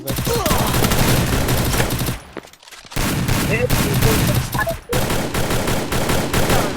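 Rapid bursts of game gunfire rattle loudly and densely, pausing briefly before resuming, with faint voices mixed in.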